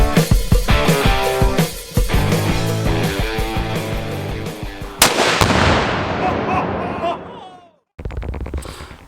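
Several loud, sharp shots from a Ruger Blackhawk Bisley .41 Magnum revolver, fired one after another with short gaps between them, each crack ringing out and decaying in an outdoor setting.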